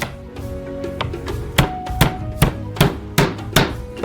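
A knife chops crushed garlic on a board with about nine crisp, evenly spaced strikes, close and fairly loud over a faint musical background.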